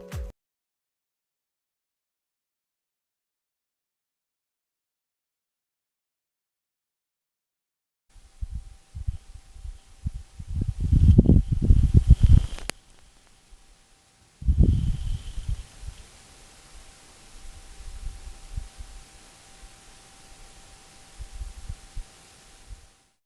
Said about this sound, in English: the wind noise rose when the leading wall of the vortex arrived, followed by a lull representing the calm air in the eye of the vortex